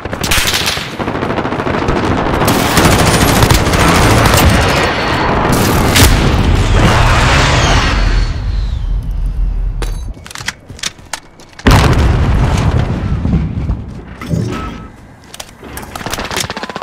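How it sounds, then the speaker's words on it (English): Call of Duty: Modern Warfare combat with a precision airstrike: heavy explosions and booming blasts mixed with sustained machine-gun fire, loud and dense, then a break into scattered sharp gunshots. "Be advised, friendly precision airstrike inbound."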